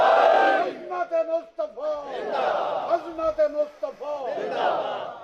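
Crowd at a religious sermon shouting naara slogans in unison, loud massed voices answering in rhythmic bursts, several chanted call-and-response phrases rising and falling in quick succession.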